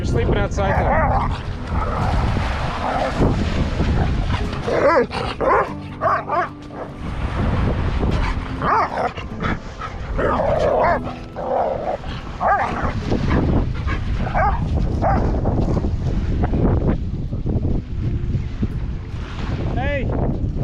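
Dogs barking and splashing around amid loud wind noise, with someone shouting over them close to the microphone.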